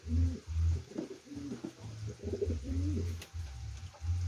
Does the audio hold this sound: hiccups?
no